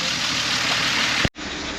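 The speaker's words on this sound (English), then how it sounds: "It's still trying to find its proper idle" A BMW E83 X3 with an M54 engine idles after its first start, a loud steady close-up engine drone cut by a brief sharp dropout before resuming.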